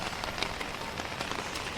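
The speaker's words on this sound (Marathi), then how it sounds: "कारण आत्ता खूप पाऊस आहे" Heavy rain pours steadily during flooding in Alandi, a dense, even hiss of drops striking surfaces, with no voices.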